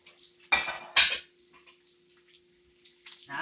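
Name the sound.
placing a plate over a pot of grits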